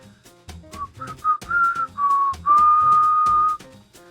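A person whistles an imitation of the Dragonzord flute tune from Mighty Morphin Power Rangers: a short rising run of notes, then a long held note, close and clear against a quiet background.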